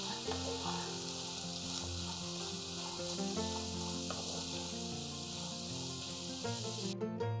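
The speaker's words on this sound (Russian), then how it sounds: "Обжариваем на среднем огне, периодически перемешивая." Diced potatoes frying in vegetable oil in a pan over medium heat, a continuous steady sizzle with occasional stirring, heard alone under soft background music.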